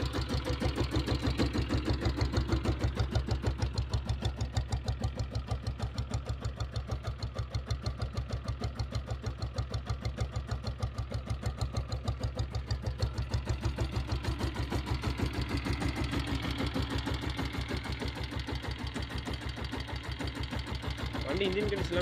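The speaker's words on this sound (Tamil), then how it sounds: "வண்டி இன்ஜின் எல்லாமே நல்லாயிருக்கும்." A Royal Enfield diesel Bullet motorcycle idles steadily and close by, its single-cylinder engine thumping in a fast, even rhythm throughout with no change in speed, while someone talks over it.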